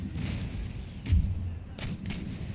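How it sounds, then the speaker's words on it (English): Howitzer artillery firing in the battle game Empire Total War, a few dull, distant thuds spaced apart over low background noise. "instruct our howitzer for caress shot, and let's target their artillery"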